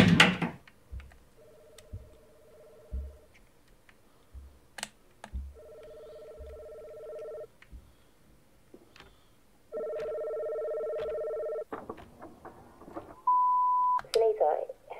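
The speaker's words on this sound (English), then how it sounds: "I've been ringing all morning. Please pick up the phone." Telephone ringing in the video game Before I Forget: repeated electronic ring tones in separate bursts spaced a few seconds apart, moderately loud, followed by a higher beep, with faint clicks and footsteps between rings and no talking.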